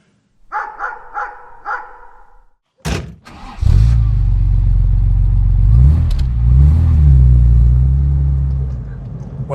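A freshly restored classic touring car starting up and driving, its engine a deep, steady rumble close by with a couple of revs, preceded by a dog barking several times.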